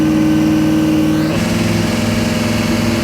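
A Pontiac Firebird engine runs steadily at a loud, close idle, with a smooth, even rumble and a slight shift in pitch about midway through, with no talking.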